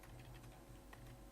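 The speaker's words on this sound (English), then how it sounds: "in here we simply type" Computer keyboard keys tap quickly in a short, very faint burst of typing.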